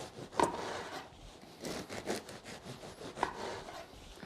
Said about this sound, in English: We're just going to just take out another bread knife. We're just going to cut some slices.